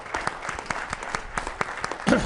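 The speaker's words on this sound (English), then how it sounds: "Big round of applause for our panel." Audience applause for an oil and gas industry panel at the close of a digital-innovation discussion, a fairly faint, steady patter of many hands clapping with a slight swell near the end.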